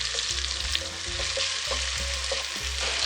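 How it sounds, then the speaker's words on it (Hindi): Chopped onions brown in a pan over medium heat while beef nihari is being made, giving a steady close sizzle and frying hiss with occasional stirring scrapes and no talking. "प्याजों को मैं ब्राउन कर लेती हूँ।"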